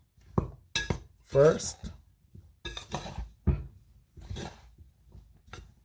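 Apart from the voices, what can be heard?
mixing dry saltfish fritter ingredients with a spoon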